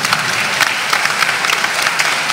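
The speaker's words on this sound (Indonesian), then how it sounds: "Tepuk tangan untuk mereka." Dense, steady applause from a congregation at a priestly ordination jubilee celebration honouring two priests, loud and continuous with no speech over it.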